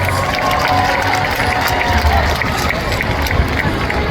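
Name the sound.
audience applauding volunteers at Sea World orca show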